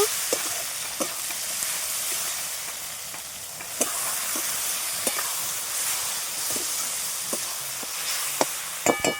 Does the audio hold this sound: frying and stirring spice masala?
yes